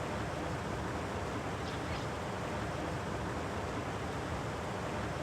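Water is released in Metroid Prime, heard as a loud, steady, unbroken rush of noise from start to finish.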